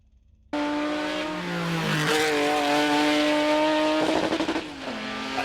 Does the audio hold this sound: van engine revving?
yes